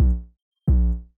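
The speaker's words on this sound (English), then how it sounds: "I'm going to throw it into an envelope to make it shorter." Two short, clipped 808 bass notes shortened with an envelope boom and quickly decay, leaving a brief silence between them. They sound deep, punchy and isolated, with no other sounds.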